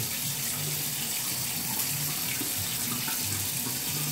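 Hot water runs steadily from a bathroom sink tap, a continuous close splashing flow with no talking.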